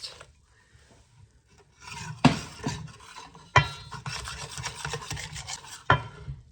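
Thick English muffin bread batter being mixed by hand with a Danish whisk in a bowl, close and moderately loud, with steady rasping scrapes and a few sharper knocks against the bowl, no talking.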